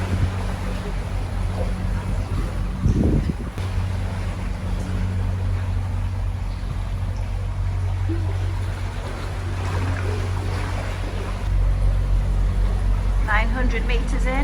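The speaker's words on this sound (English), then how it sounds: "It's difficult to see, but that is Richard driving the boat." Steady low drone of a canal boat motor running inside an enclosed tunnel, a continuous rumble with a brief louder thump early on and a shift in tone toward the end.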